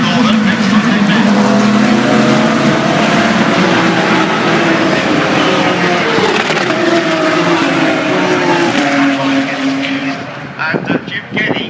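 Race cars roar away together at the start of a Blancpain GT race at Brands Hatch. A loud, dense engine din holds for about ten seconds before thinning out, and a commentator talks over it.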